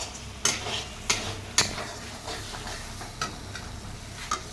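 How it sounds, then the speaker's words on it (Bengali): A spice paste is sautéed with sour yogurt in a pan for a vegetarian papad dish. A spoon stirs it in a few sharp, rhythmic scrapes over a soft, steady sizzle. "এখন এই পেস্টটা দিয়ে সুন্দর করে আবার কষিয়ে নেব"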